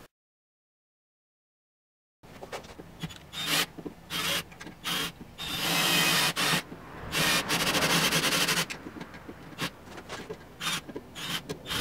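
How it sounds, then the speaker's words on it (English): A car body panel on a Honda Integra track car project is sanded by hand before painting, giving repeated close scraping strokes that quicken into longer steady rasping passes after a silent start, with no talk. "I'm gonna sand that down, make it look all nice and clean"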